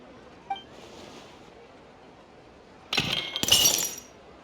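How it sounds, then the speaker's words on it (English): A vase breaking in the video game Genshin Impact, a faint tap and chime early, then two sharp crashes of shattering glass in quick succession, loud and close. "Look at the vase. Did someone break it while they were cleaning the room or something?"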